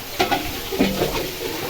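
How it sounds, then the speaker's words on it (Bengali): Cabbage bhaji sizzling in a pan, with a close steady frying hiss and a few quick stirring scrapes. "এই তো রান্না করছি হচ্ছে পাতাকপি ভাজি"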